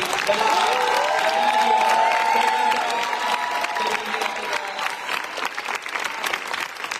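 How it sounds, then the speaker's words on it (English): A crowd at a fan meeting in Barcelona applauds loudly and continuously, clapping spread across many hands with a few cheers and whistles mixed in, fading slightly toward the end. "giving to you a big applause for our amazing technician crew"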